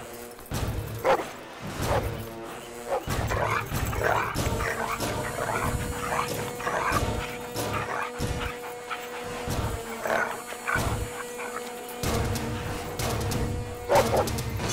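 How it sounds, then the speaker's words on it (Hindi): A dog barks and yelps repeatedly while chasing someone in a Hindi-dubbed film scene, sharp barks and whimpers in uneven bursts over tense background music, close and fairly loud. "वही रास्ता, वही कुत्ता तुम्हारे पीछे भाग रहा है, तुम दौड़ रही हो"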